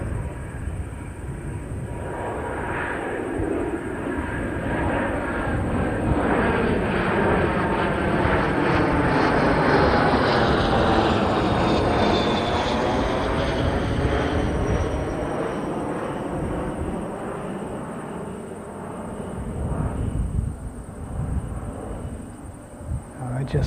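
A Falcon business jet departs in a straight, level climb, its loud engine roar building and sweeping in pitch as it passes nearby, then fading slowly, with faint talk underneath.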